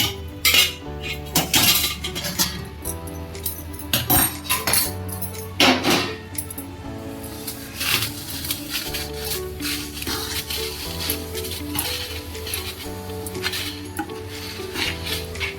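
A spoon clinks and scrapes against a metal pot while hot jaggery syrup is stirred into ragi flour for ladoos, giving uneven, fairly loud bursts of clatter and rattle.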